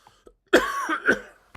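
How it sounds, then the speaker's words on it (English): One close, raspy cough in a couple of bursts, sounding like a throat-clearing cough, with quiet moments before it. "got a bit of a cough"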